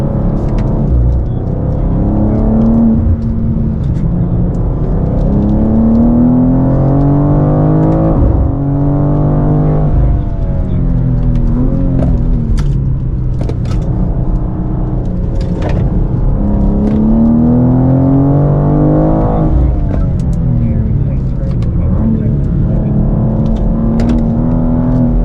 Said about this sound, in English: We're in a 2024 BMW M2. We have the 8-speed auto.